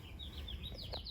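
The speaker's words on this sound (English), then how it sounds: "shut the fuck up, bird." A small bird chirps and tweets in a quick series of high, bright calls, fairly close and clear over a low steady background hum, with no talk.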